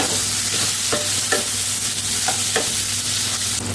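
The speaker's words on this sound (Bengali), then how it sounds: "এইবার বেগুনগুলোকে এই তেলের মধ্যে আগে একটু লালচে করে ভেজে তুলে নেব।" Brinjal slices fry in hot oil in a kadai for a hilsa curry, with a steady close sizzle and a few sharp spatula scrapes and taps at irregular intervals.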